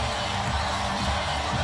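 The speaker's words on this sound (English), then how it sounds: "Time for the tradition here at the Quicken Loans Arena that sends the crowd into a frenzy" Arena crowd at the Quicken Loans Arena roaring in a frenzy during a pre-game tradition at an NBA game, a dense, steady wall of cheering and shouting from thousands of fans throughout.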